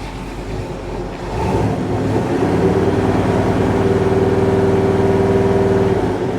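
A 1976 Chevy Nova engine with new exhaust pipes and a vacuum leak idles steadily and loudly, its low rumble holding an even drone with a faint whine rising over it, no voices.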